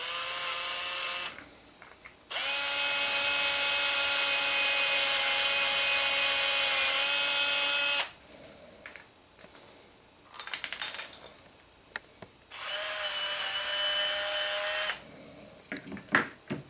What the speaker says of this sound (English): Now that we've got our hole drilled, now you can test fit your bearing.